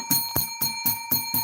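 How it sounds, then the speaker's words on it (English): A small bell rings six times in a quick, even rhythm, each strike bright and close with a lingering metallic tone. "A little bell ringing"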